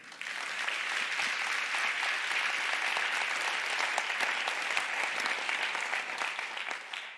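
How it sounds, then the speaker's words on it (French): An audience at a thesis-in-180-seconds science communication final applauds for a candidate, a sustained wash of clapping from many hands lasting several seconds, fairly distant and with no talk over it. "On peut encore l'applaudir."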